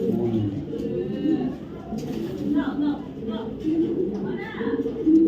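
A female Mili racer pigeon in moult coos with low, rolling calls, repeated under someone talking nearby.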